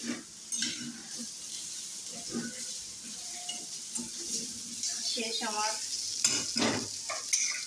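Vegetable bhaji sizzles and fries in a pan while being stirred, with clattering utensil scrapes and bursts of hiss over the steady frying noise.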